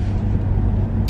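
A car being driven, heard from inside the cabin as a loud, steady low rumble of engine and road noise across the whole short stretch.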